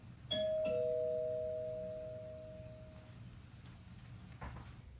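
A doorbell chimes once, a clear two-tone ding-dong ringing out loud and close in a quiet home, its tones fading slowly over a few seconds.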